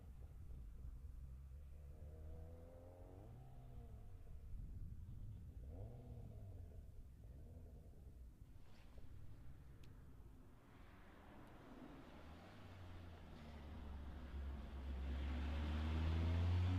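John Buffum's Audi Quattro rally car approaches on a super special stage at The Ridge Motorsports Park during the 2017 Olympus Rally. A faint, distant engine rumble under quiet talk swells into a loud, close roar at the end.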